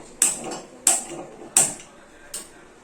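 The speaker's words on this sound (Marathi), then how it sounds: "इथे मी गॅस ऑन केलाय" A kitchen gas stove's igniter snaps four times at even intervals, each click sharp and bright with a short ringing tail, the last one softer, close up in a quiet room before cooking starts.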